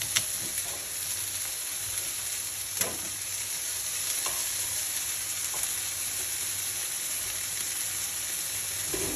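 Garlic dropped into a hot pan beside a Black Angus steak sets off a steady, close sizzle and frying hiss, with a few sharp crackles and clinks of stirring along the way.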